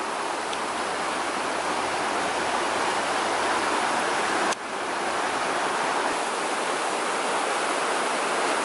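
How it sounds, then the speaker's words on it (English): A small mountain river along Bear Creek Trail rushes steadily, a dense continuous roar of flowing water heard close by with no talking, broken by one brief click partway through. "Pretty good flowing little river though."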